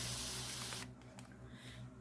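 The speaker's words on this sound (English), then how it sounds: "So I'm just going to keep on spraying." A spray bottle of alcohol hisses in a sustained, fairly quiet mist for the first second, then fades to near silence with a faint click at the end.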